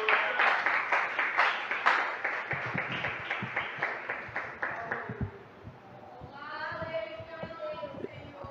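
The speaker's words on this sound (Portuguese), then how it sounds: "dá uma salva de palmas para Jesus" Church congregation clapping in a steady rhythmic beat, close and fairly loud, fading out as voices and singing-like tones take over toward the end.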